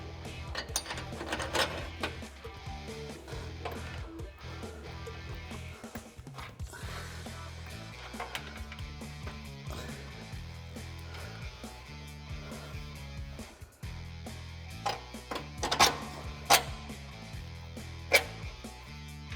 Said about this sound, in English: We're going to reinstall the bolts.